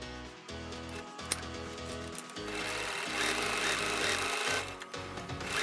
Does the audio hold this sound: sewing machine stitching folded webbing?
yes